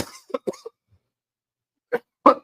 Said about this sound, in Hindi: मुझे पहले से खांसी है